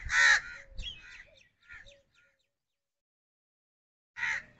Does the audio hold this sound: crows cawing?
yes